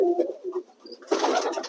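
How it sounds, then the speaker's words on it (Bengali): Giribaz pigeons coo softly at a loft, a few low throaty calls up close, followed by a burst of rustling and flapping near the end. "এটা এটা একটা গিরিবাজ পায়রা"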